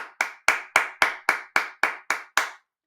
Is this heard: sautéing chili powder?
no